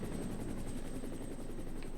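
A helicopter approaches in the Resident Evil: Director's Cut video game, its rotor chopping in a steady, fast pulse over a constant engine drone. The sound is fairly loud, with no talking.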